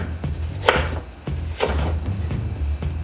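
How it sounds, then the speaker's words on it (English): A knife roughly chops fresh vegetables on a cutting board for a Southern-style pork neck bone and potato stew, a few sharp, close thuds spaced unevenly over a low background hum. "We're just gonna roughly chop it."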